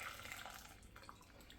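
Water is poured over jelly powder in a bowl, a soft continuous splashing pour that stays faint and steady, with no speech.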